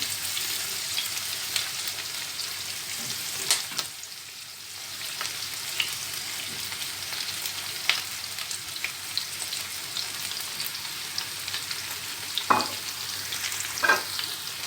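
Peppers frying in a pot for a chicken meatball stew with tomato sauce and potatoes. A steady close sizzle carries a few sharp clinks and scrapes of stirring, and no one speaks.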